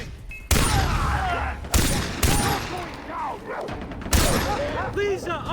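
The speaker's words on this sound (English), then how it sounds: "Who's shooting?" Gunfire from the video game Far Cry 3: loud bursts of shots and booming blasts come in several distinct waves, close and dense, with shouting voices mixed in among the battle noise.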